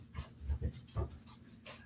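A dog pants quietly close by, its soft rhythmic breaths mixed with faint whimpers, low in level and with no talking.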